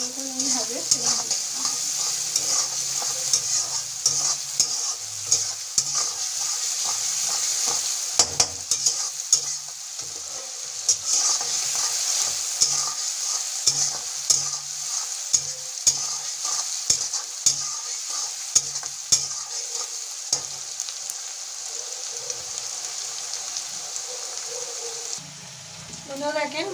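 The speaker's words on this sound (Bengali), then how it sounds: "পেঁয়াজটা ভালো করে ভেজে নিয়েছি" Onions frying red in a pan for a village-style Bengali prawn dish, a steady hiss of sizzling oil with repeated scraping and stirring clatter throughout, and a voice talking at times over the cooking.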